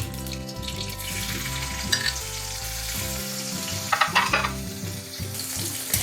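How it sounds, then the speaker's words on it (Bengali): Chopped onion with black cumin seeds sizzles steadily in hot oil in a pan, with occasional stirring scrapes and background music beneath. "পেঁয়াজটা একটু ভাজা ভাজা করে নেব।"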